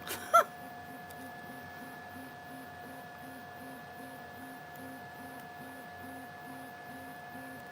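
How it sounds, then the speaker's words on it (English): A 3D printer preheats, a quiet, constant hum with faint steady tones and a soft rhythmic pulsing, preceded by a single short knock at the start. "Your printer is preheating."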